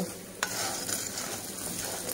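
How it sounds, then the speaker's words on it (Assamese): Close-up sizzling of jackfruit seeds in a hot iron wok with a brief scrape of a spatula at the start, then a steady crackle of frying. "আইৰণৰ কেৰাহী এটাত কঁঠাল গুটিখিনি এনেকৈ অলপ সময় ভাজি ল'ব।"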